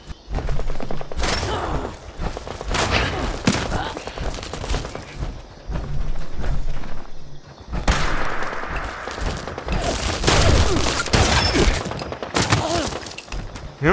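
In Fallout 76, repeated bursts of .50 caliber gunfire ring out as sharp, loud volleys in clustered sequences separated by short pauses, with a rapid rattling string of shots near the end.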